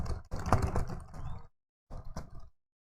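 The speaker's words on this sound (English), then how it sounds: "You see, I will type my text." Typing text on a computer keyboard while writing a Microsoft Word document: a dense run of close key clicks, a short pause, then a second shorter burst of tapping, with no talk.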